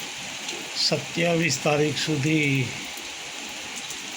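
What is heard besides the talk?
heavy rain falling in Vasna Jivraj Park, Ahmedabad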